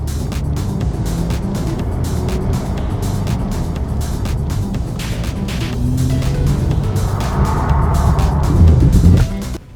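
A modified Nissan Z on a race track for hot laps, its engine a loud, continuous close drone from the cabin that builds toward the end before cutting off abruptly.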